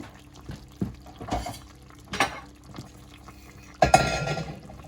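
A ceramic plate clinks and knocks against other dishes in a few scattered contacts, ending in a louder clatter near the close.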